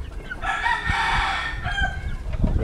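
A rooster crows among gamefowl, a loud, close, drawn-out call of about a second and a half, with clucks and low farmyard noise around it.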